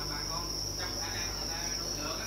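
Dense, continuous high-pitched chirping from many crickets packed together in rearing enclosures at a cricket farm, a steady shrill trill that fills the space with no pauses.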